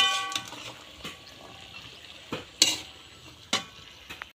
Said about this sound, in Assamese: 3-4 মিনিট ভাজি লৈছোঁ